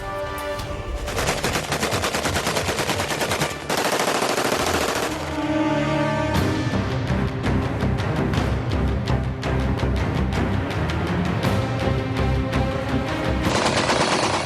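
Celebratory aerial gunfire at a wedding, dense rapid bursts of shots cracking one after another almost continuously, loud and close, with only brief pauses between volleys.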